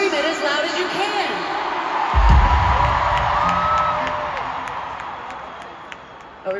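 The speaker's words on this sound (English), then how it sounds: "You scream it as loud as you can." Concert crowd at a show on the Eras Tour in London, cheering and screaming as a broad roar that swells near the middle and stays loud under someone talking over the PA.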